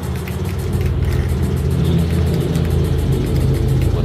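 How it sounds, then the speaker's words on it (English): Motorbikes pass outside as a loud, steady, low engine rumble and drone that stays constant throughout, with no speech. "Bikes driving past here,"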